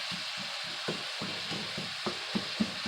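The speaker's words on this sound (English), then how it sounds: "You can hear it, it's starting to sizzle up real nice." Chopped vegetables for a stuffed sugar pumpkin sizzle in a hot pan, a soft continuous frying hiss punctuated by light scraping and tapping from stirring, quiet and close.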